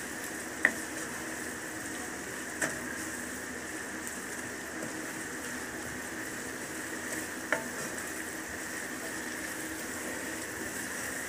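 Mint and coriander leaves fry gently in a pan for a biryani, a soft, even, rain-like sizzle with a few faint isolated clicks and no talking.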